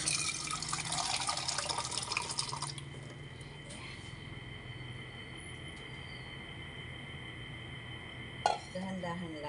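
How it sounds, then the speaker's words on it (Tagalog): Water is poured into a cooking pot while making a merienda snack, a splashing fill sound that runs strongly at first, then settles into quieter trickling with a brief clink of cookware near the end. "Tapos, maglagay tayo ng tubig."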